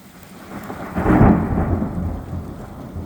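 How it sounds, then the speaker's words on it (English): A loud roll of thunder swells and rumbles through an intense thunderstorm in Plymouth, Massachusetts, over a steady hiss of rain falling on surfaces nearby. "certainly a very intense thunderstorm"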